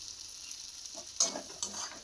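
Potatoes and eggplant stir-fry in a pan for a katla fish curry, a close, constant sizzle broken by two quick scraping stirs near the end.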